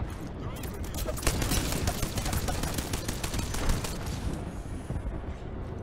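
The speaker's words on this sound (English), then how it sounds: "The enemies are shooting at me." Rapid gunfire from enemy players in the video game Apex Legends, a dense, continuous barrage of overlapping shots and bursts filling the whole stretch at steady loudness.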